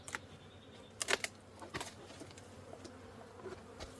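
Honey bees buzzing around hives at a backyard apiary in Indiana, a low steady hum with scattered sharp clicks and brief louder bursts as bees fly close, no voices.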